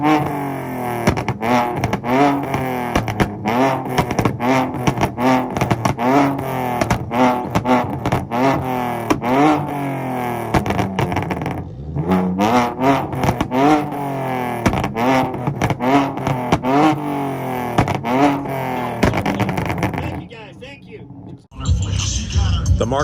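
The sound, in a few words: car engine revving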